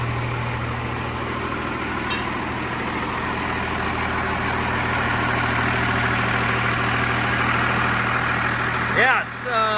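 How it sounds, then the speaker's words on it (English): An old diesel-powered Dodge truck idles loudly and steadily with a deep, even drone close by, and a brief clatter near the end. "Yeah, it's a loud engine."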